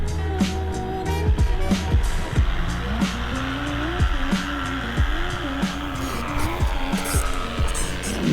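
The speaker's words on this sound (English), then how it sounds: "I hear a motor." Paramotor engine running in flight, a loud buzzing drone whose pitch keeps sweeping up and down as the throttle and distance change.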